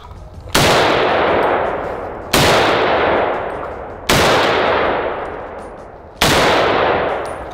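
A battle rifle fires four single shots at an outdoor range, each a sharp loud crack followed by a long rolling echo that fades before the next, spaced about two seconds apart.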